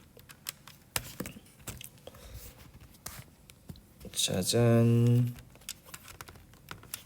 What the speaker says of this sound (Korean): 선생님 이거는 키보드로 필기를 좀 해드리겠습니다.